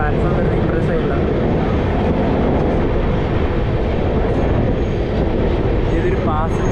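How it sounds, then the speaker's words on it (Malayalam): Kerala Express pulling into Gwalior Junction railway station, a loud continuous low rumble of rolling stock with faint clatter, and a voice talks over it. "ഗ്വാളിയർ ജംഗ്ഷൻ റെയിൽവേ സ്റ്റേഷനിൽ വണ്ടി എത്തിയിരിക്കുകയാണ്"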